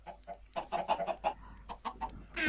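A chicken in a video game clucks in a rapid, rhythmic series of short calls, close and clear, followed by a brief burst of noise at the end.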